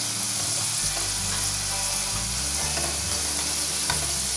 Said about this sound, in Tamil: மீடியம் ஃப்ளேமில் எல்லாத்தையும் ஃப்ரை பண்ணியாச்சு.